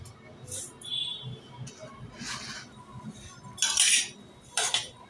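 Dried rice being dry-roasted in a hot kadhai for rice-flour laddoos, heard as scattered metallic scrapes and clinks of a spoon stirring against the pan, with brief bursts of rattling grains, close by.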